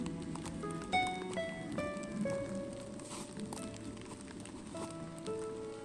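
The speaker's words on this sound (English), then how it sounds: "But it's been steadily raining all day long." Steady rain falls outdoors, a soft continuous patter against the surroundings with faint scattered tonal calls over it, no voices heard.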